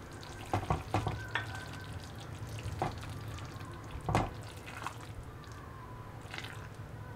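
Butter sizzles in a hot pan with paneer, a continuous close frying hiss broken by sharp crackles and occasional spatula scrapes, with no talking.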